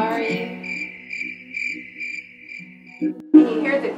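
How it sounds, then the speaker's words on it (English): A cricket chirps in a steady pulsing trill that repeats about twice a second, loud and near, and a voice briefly cuts in near the end. "Can you hear the cricket on that too, making that funny noise?"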